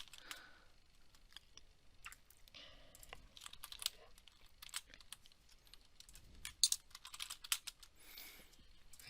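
Computer keyboard keys clicked in quick irregular bursts while Python code is typed, faint and close, with short pauses between runs of keystrokes.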